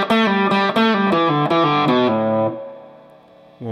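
Distorted electric guitar plays the second lick of the solo, a quick series of picked notes then a sustained note that fades, loud and close with no talking.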